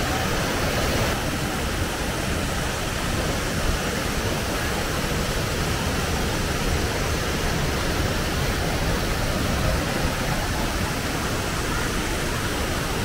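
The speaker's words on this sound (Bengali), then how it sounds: "জলের পাশে বসে ঝর্ণার শব্দে মেতেছিলাম" Steady, broadband rush of a waterfall near Gangtok in Sikkim, a continuous even roar of falling water heard alone without talk throughout.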